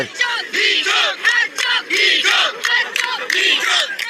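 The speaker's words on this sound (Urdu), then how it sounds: "یہ جو ہر چوک ڈی چوک کے نعرے ہیں" A crowd outside Adiala jail chants political slogans in rhythmic bursts, many voices shouting together in repeated phrases with short gaps between, loud and close.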